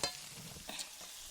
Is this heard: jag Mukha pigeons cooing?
no